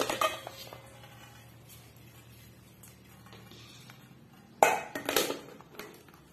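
Soaked potatoes being strained for a Konkani-style potato stir fry: quiet kitchen clinks at first, then a sudden loud clatter of pots, dishes and splashing near the end.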